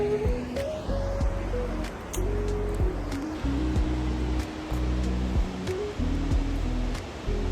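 Steady rushing water of Bopath Ella waterfall in Sri Lanka roars continuously, with a low droning engine-like hum and a few faint clicks over it.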